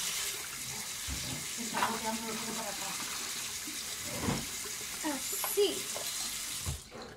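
Cold tap water runs over freshly drained pasta in a colander at a kitchen sink, a steady splashing stream with brief bursts and clatter, while a voice speaks briefly over it.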